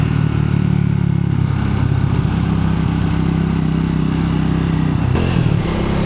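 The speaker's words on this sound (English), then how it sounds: "riding the back twisty roads on a 400cc motorcycle" A Triumph Tracker 400 single-cylinder 400cc motorcycle ridden on twisty back roads in Oregon, its engine droning steadily and close with a constant rumble and wind, a brief shift in tone near the end.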